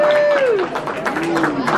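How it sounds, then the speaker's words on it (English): A theatre audience claps in a loose burst of applause, close and moderately loud, with a singing or sustained voice running over the clapping throughout. "This is the part where you clap."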